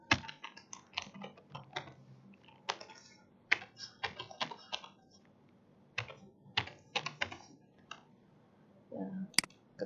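Someone types an email address on a computer keyboard, with close, quick plastic key clicks in short irregular bursts separated by brief pauses. No one speaks.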